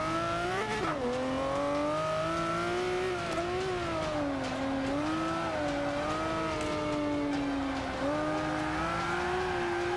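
Car engine and tires during a driving run in Forza 5 in third gear, a loud continuous engine drone whose pitch rises and dips as the throttle changes, with a faint tire squeal. No talking.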